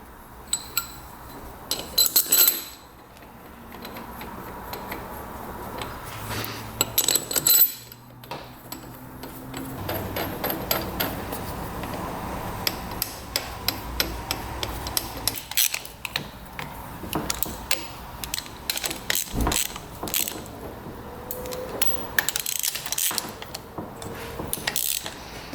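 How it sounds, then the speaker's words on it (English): Ratchet torque wrench tightening UTV engine head bolts to 44 foot-pounds, heard as close, busy clicking and metallic ratcheting with scraping and clanking handling sounds throughout. "These get torqued down to 44 foot-pounds."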